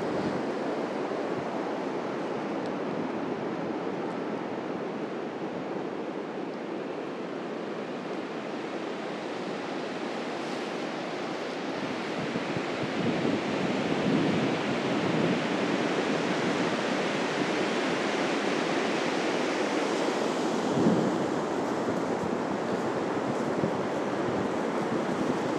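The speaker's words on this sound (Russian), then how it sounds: "Давайте еще полюбуемся этим штормящим морем." Stormy sea surf rolls onto Anapa's central beach after strong wind and rain, a constant broad roar of breaking waves with gusting wind buffeting the microphone, steady and close throughout.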